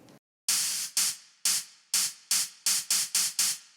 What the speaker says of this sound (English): the third layer is just white noise